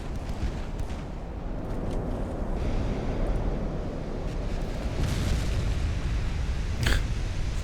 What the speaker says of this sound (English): Big explosion on Harukaze.